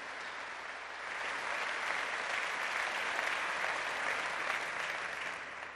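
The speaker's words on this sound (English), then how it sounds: "I think this requires an applause for Nina Meyer." Steady, broad applause from a crowd at a Daimler battery factory groundbreaking ceremony, a continuous wash of clapping that swells after the first second and holds at an even, moderate level.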